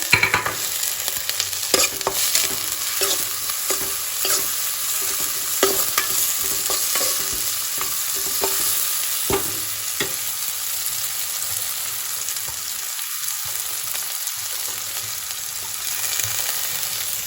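Cabbage stir-fried in a pan with spices and turmeric for Maggi noodles, with steady sizzling and repeated scraping stir strokes running throughout, close and fairly loud, and no talking.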